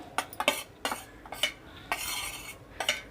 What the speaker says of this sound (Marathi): त्याच्यामध्ये आपण आता हे वाटलेले शेंगदाणे मिक्स करूया